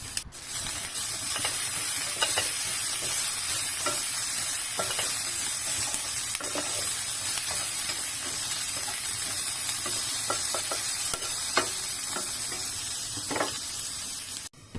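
Carrots stir-fried with tuna and tofu in a pan give a constant close sizzle, broken by scattered clicks and scrapes of stirring.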